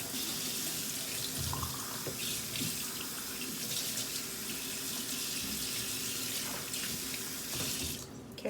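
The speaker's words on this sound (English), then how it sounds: "And then you're going to fill it up with water." Tap water runs steadily into a bowl of rice, a continuous close splashing rush that goes on for several seconds before cutting off, with a brief spoken word over it.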